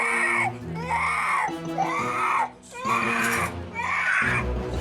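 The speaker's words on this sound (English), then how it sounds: "every time he screams like that, you pick him up" A toddler screams and wails through a meltdown, loud and close, in long strained bursts with brief gasping breaks between them.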